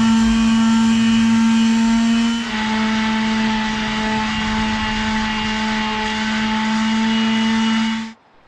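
A power sander strips old paint from the porch of a 100-year-old house, a loud steady motor drone with a slight pitch shift partway through, running alone until it cuts off just before the end.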